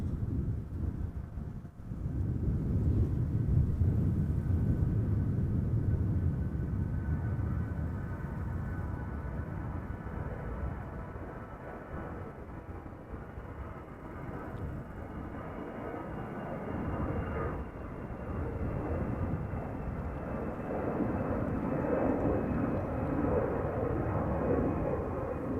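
An airliner lands on the Aalsmeerbaan runway at Amsterdam Schiphol on a misty, hazy day, a distant sustained jet roar mixed with wind buffeting the microphone.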